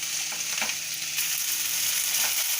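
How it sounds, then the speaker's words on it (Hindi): Vegetables frying in a pan for a Mexican capsicum rice, a steady bright sizzle with a few soft stirring scrapes, close and even throughout with no voices. "इसको भी 1 से 2 मिनट तक फ्राई करूंगी"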